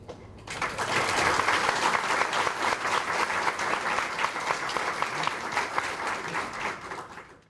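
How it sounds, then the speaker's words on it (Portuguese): Sustained applause from a lecture audience greeting an invited speaker at a mathematics education conference, a dense even wash of many hands clapping that starts after a brief pause and carries on steadily to a gradual fade. "Eu solicito a todos uma grande salva de palmas pelo brilhante conferencista"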